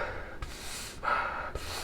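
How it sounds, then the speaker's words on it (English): Someone breathes in through a fabric face mask in a few close, airy gasping inhales with short pauses between them, heard alone with no talking. "when I breathe in, it's like sucking into my mouth"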